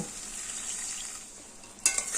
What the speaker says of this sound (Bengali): এবার আলু মশলা কড়াইশুটি আরও এক দেড় মিনিট কষিয়ে নেব